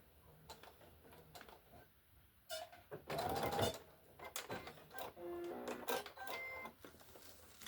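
A sewing machine stitching fabric in short, irregular bursts of quick mechanical ticking and whirring, fairly faint and close, with brief pauses between runs and no voices.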